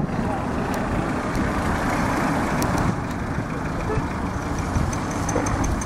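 A car rolls along a road, a steady low engine and tire rumble filling the whole stretch at an even level, with a faint voice talking over it.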